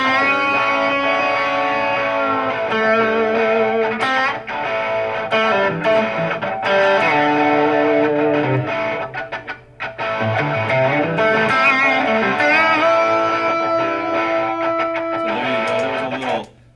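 Distorted electric guitar plays double-pump string bends that slide up in pitch, with echoing delay trailing each phrase, loud and continuous with no voices.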